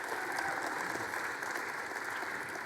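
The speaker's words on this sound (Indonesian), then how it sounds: "Mari kita berikan sambutan tepuk tangan kepada Aldo dan Sheila." Wedding guests applaud the newlyweds Aldo and Sheila, a steady wash of fairly distant clapping that holds at an even level throughout.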